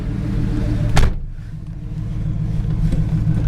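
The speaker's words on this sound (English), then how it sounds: "Most of that rumble's coming from those Flowmasters." A 1969 Camaro RS V8 engine exhaust rumbles through Flowmaster mufflers, idling steadily, with a brief sharp clunk about a second in, then the low burble carries on.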